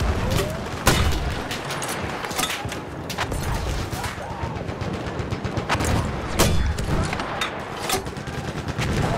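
Video game gunfire in rapid, sharp bursts, mixed with loud single shots and booms over continuous background noise, with occasional faint voices.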